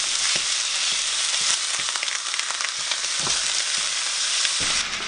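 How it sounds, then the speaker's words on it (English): Ground beef frying hard in olive oil, a dense, steady sizzle with crackling pops and occasional stirring scrapes, close and loud throughout with no voices. "First thing I got to do is cook the beef."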